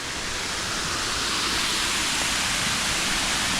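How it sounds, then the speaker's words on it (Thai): Nakharat Waterfall roars steadily and loudly, a dense unbroken rush of falling water filling the whole clip with no voices. "เป็นน้ำตกนาคราชนะฮะ"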